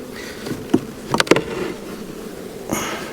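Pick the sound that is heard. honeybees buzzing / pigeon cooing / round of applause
honeybees buzzing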